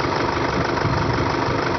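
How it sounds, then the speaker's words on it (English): A Toyota Hilux engine with its number one injector opened runs at a steady idle, loud and close with a rough, vibrating knock throughout and no talking. "You can see the engine is vibrating"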